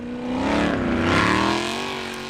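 A formula offroad race car at a hill-climb event is floored, its engine revving hard in a rising and falling howl that swells loud, then eases slightly, heard at moderate distance with no voices.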